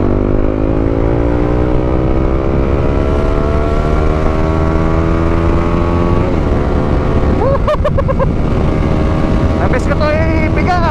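Riding on a Honda CB150X, the motorcycle engine climbs in pitch as it revs, drops with a gear change, then pulls again, loud and near, with short higher squeals near the end.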